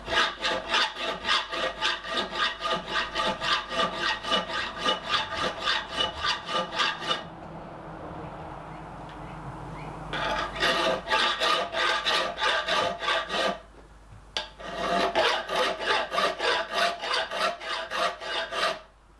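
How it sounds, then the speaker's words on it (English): A hand file rasps across a steel chisel blank, shaping the transitions and scraping off scale in steady rapid strokes, close and loud, with a pause of a few seconds and a brief break before the rhythm resumes. "Now we begin filing the transitions."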